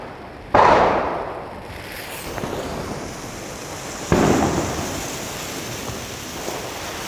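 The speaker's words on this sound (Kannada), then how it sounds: "ಶಾರ್ಟ್ ಗನ್ ನೋಡೋಣ ಹೇಗಿದೆ." A 'shot gun' Diwali firecracker fires two sharp, loud outdoor bursts several seconds apart, each fading into a long hissing decay over steady wind-like background noise.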